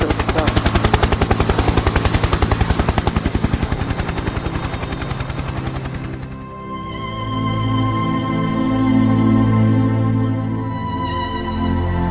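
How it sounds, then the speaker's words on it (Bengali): Rapid bursts of automatic gunfire rattle loudly and continuously for several seconds during the 2009 Pilkhana mutiny in Dhaka, then give way to a steady low mechanical drone like a helicopter. "গুলি করছে ওরা আমাদের অস্ত্র নাই"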